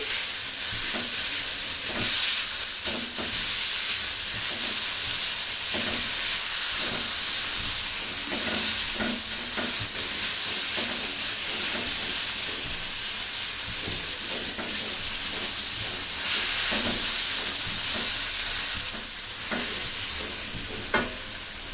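Tomatoes frying in a pan after salt is added give a steady, close sizzle and hiss, with soft stirring scrapes throughout and no talking.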